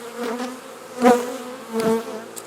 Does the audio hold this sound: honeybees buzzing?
yes